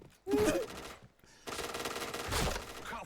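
Gunfire in the video game Point Blank during a one-on-one headshot match in the Hangar map, two dense bursts of rapid shots separated by a brief gap, loud and close with no talking.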